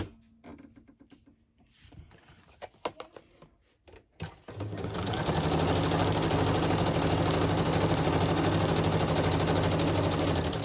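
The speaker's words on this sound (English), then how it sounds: "take my zigzag off and I'm just going to straight stitch down that one" Sewing machine running a straight stitch on a crafted trifold journal insert. A few handling clicks and taps come first, then a loud, steady rapid whirr and needle chatter runs without a break to the end.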